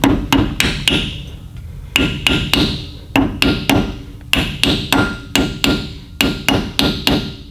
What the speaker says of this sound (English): And tap that in with a hammer.